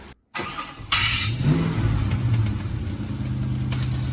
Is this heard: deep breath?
no